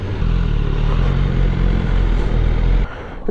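A 2018 BMW S1000R motorcycle runs loud and close during a short urban ride, its engine a thick, continuous drone before it drops off sharply near the end.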